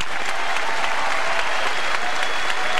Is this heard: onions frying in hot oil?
no